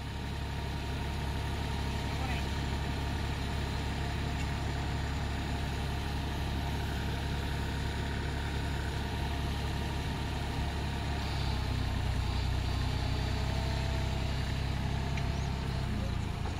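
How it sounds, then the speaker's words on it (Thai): A drilling motor runs with a continuous, loud mechanical drone throughout, its low hum shifting slightly in tone partway through. "มอเตอร์ปั่นนี้มันไม่แรงครับ"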